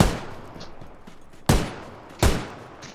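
Two sharp, loud gunshots about three-quarters of a second apart in a shooting video game, each with a short echoing tail, over low background game noise.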